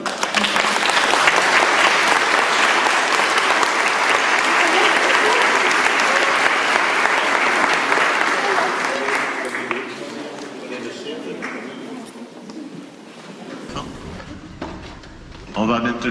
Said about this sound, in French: On va peut-être les applaudir.